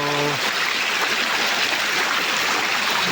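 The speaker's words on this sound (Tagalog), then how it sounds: "lumakas bigla yung agos ng tubig eh tapos puro putik eh" A strong, muddy creek current rushes past a road culvert, making a loud, steady broadband roar of churning water that holds evenly throughout, after a brief tonal sound at the start.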